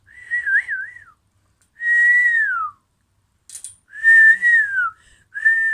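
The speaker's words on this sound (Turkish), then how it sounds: "Islıklı çalıyor." A person whistles in short separate phrases, a warbling trill then several sliding notes, with brief silences between.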